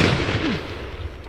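A musket fired by a musketeer reenactment line on command, a single sharp, heavy blast right at the start that decays into a rolling rumble and echo.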